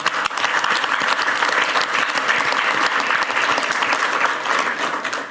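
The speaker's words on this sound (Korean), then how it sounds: "박수 한번 치면 어떨까?" Steady applause from a crowd, many hands clapping densely and loudly throughout without a break.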